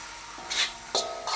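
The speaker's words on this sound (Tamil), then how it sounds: "இப்போ சேர்கிற மாதிரி நாங்கள் நல்ல வடிவாக கிண்டி விடுவோம்" Vegetable rice being stirred in a pan, two or three short, rough scraping rubs of a spoon through the rice, close and moderately loud with brief pauses between strokes.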